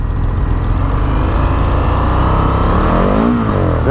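A 2020 Indian FTR 1200 motorcycle engine revs loud and close, a steady hard drone held throughout before climbing in pitch near the end; the motor runs smooth but turns lumpy around 2,500 to 3,000 rpm.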